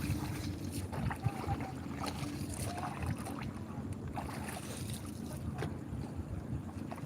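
Small boat on the water at Kashid beach, with low rumbling engine or hull noise and steady wind buffeting the microphone, a faint splash or knock standing out now and then, continuous with no speech.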